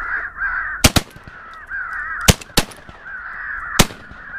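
Crows cawing during a crow hunt outdoors, a harsh repeated caw carrying across the whole stretch, with several sharp loud cracks of gunfire breaking in at intervals.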